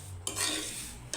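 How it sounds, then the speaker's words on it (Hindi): A spoon scrapes and stirs semolina in ghee in a pan, two quick close scraping strokes over a soft sizzle, with no talking. "अब इसे अच्छे से सूजी को मिक्स कर लेंगे"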